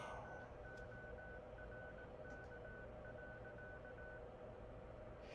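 Morse code CW beacon keyed from a 5-watt amateur radio handheld: a faint, steady tone broken into a rhythmic run of dashes and dots, sitting low behind a constant rumbling background hiss.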